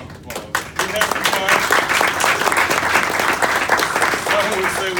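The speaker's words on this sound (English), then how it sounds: "Give yourself a round of applause." Graduation crowd of graduates breaking into a sustained round of applause, dense loud clapping filling a hall after a brief pause, with a voice speaking over it.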